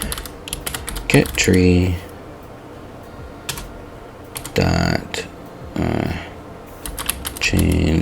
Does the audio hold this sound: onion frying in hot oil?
no